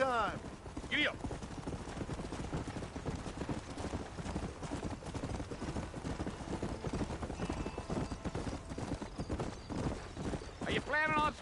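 Horse trotting in the video game Red Dead Redemption, a steady rhythmic clip-clop of hooves with occasional whinnies and people talking over it.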